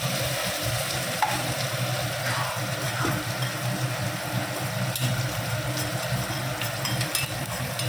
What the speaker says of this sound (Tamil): மிளகு சீரகத்தை வறுத்துக்கலாங்க தக்காளி போட்டுக்கலாங்க